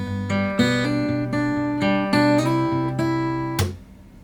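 Guitar plays the main riff at a slow pace, a short sequence of plucked notes and chords ringing up close, ending with a sharp percussive slap.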